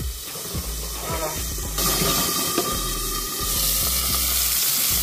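Nettles fry in oil in a previously used pan, giving a steady, close, dense sizzle that swells slightly louder partway through and keeps hissing without pause.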